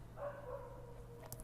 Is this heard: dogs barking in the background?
yes